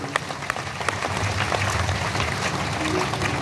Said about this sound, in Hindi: तो एक बार जोरदार ताली हो जाए इनके स्वागत के लिए